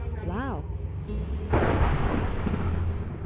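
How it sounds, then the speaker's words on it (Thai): A sudden heavy crack of video-game lightning and thunder erupts into a long rumbling roar after a brief warbling tone, loud and close, with game-like ambience underneath. "อันนี้เสียงฟ้าผ่าจ้า"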